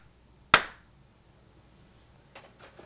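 One crisp hand clap up close in a quiet room at a miniature painting lesson, followed by a few faint taps or handling sounds a couple of seconds later.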